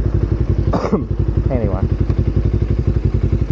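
Kawasaki Ninja 250R motorcycle engine running steadily and loudly close by with a rapid, even throb as someone speaks briefly over it.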